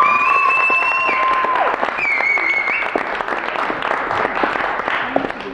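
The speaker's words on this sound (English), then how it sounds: "can you give our candidates a big round of applause?" A live audience at a law society debate gives the candidates a round of applause, dense steady clapping throughout at close, even loudness, with a few brief tonal sounds in the first seconds.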